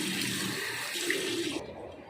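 Tap water runs steadily into a sink while a face is rinsed after gentle scrubbing with a homemade face pack routine, close and continuous, splashing briefly before cutting off near the end.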